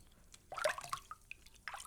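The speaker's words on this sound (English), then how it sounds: "you're just going to rinse it off" Polished silver jewelry rinsed under clear water, with soft irregular drips and splashes in short bursts, close and fairly quiet.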